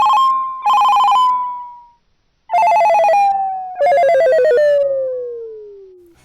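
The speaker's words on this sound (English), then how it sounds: "My ringtone has been the ringtone from Crank." A loud electronic phone ringtone, the one from the film Crank, plays in several melodic bursts with short gaps, each phrase sliding downward in pitch, heard alone without talking.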